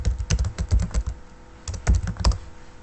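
Keys clack on a computer keyboard in two quick bursts separated by a brief pause, close and fairly loud with no speech.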